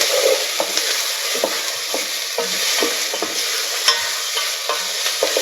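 Rinsed red lentils are stirred into a simmering sweet potato soup, with a continuous wet sizzling hiss and regular scraping knocks of a spoon against the pot, close and alone.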